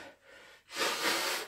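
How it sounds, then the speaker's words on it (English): A person blows their nose once during a full-body workout, a short soft exhale followed by a louder, longer forceful blast of air, close to the microphone. "Let's blow my nose real quick."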